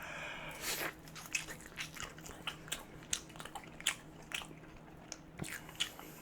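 Mom's Touch fast food being eaten up close, with repeated crisp bites and crunchy chewing in an uneven rhythm, quiet between chews and no talk.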